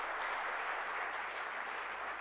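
Studio audience at a DD Punjabi celebration night show clapping steadily, a dense, even wash of applause holding at constant loudness throughout with no voices over it.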